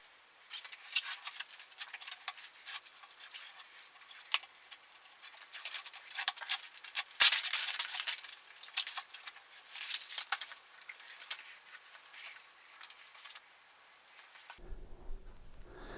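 Masking tape is peeled off the freshly finished body of a Thinline Telecaster guitar, a soft, continuous crackling and ripping hiss with small peaks, close and quiet, ending abruptly.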